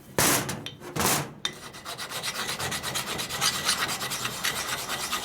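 Hand file rasping back and forth over a gritty lathe part being smoothed, a few heavy strokes at first then a steady run of quicker, lighter scrapes close by, no talking.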